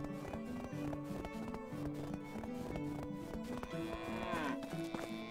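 Cattle lowing in the medieval farming game Medieval Dynasty, set against a busy bed of game music and ambient village sounds throughout, the moos steady and mid-distance rather than close.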